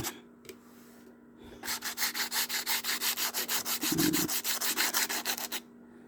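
Sandpaper rubs rapidly back and forth over the wooden body of a six-string kentrung guitar, a close, steady run of rhythmic rasping strokes after a few brief scrapes.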